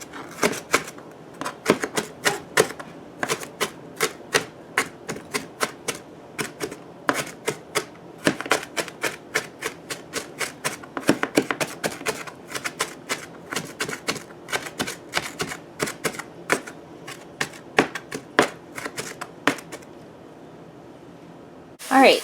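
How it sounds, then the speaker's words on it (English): A knife roughly chops carrots, onions and celery on a cutting board for a Zuppa Toscana soup, brisk irregular taps in quick clusters that run for about twenty seconds before stopping. "I'm just going to roughly chop these."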